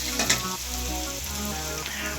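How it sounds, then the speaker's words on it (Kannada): Onions and mixed vegetables deep-fry in oil for fried rice, giving a continuous loud sizzle close by with a couple of quick utensil clinks near the start, with no talking. "ವೆಜಿಟೇಬಲ್ಸ್ ಎಲ್ಲ ಚೆನ್ನಾಗಿ ಫ್ರೈ ಆಗಬೇಕು"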